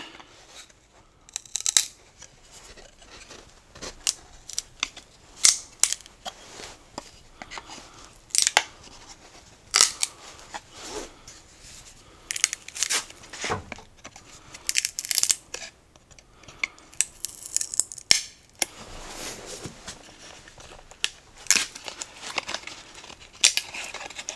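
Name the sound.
chisel prying out a router-cut wood inlay patch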